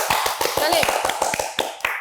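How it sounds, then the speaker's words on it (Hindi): Studio audience of a current-affairs talk show gives a half-hearted round: a sparse, fairly regular series of about a dozen distinct claps, with voices murmuring underneath. "ऐसी मरी हुई तालियां नहीं चाहिए हमें"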